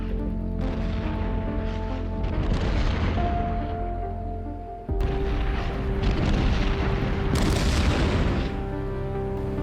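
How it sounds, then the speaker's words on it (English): Artillery barrage in the Armored Brigade II war game: dense, continuous rumbling explosions and booms rolling one into another, loud and sustained, with a sudden fresh burst of blasts midway and no talking. "My artillery hits likely enemy positions while my Shermans hide in defilade."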